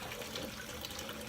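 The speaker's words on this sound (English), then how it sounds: "I'm doing my dishes." Tap water runs steadily into a kitchen sink during dishwashing, a close, continuous splashing stream with slight fluctuations and no speech.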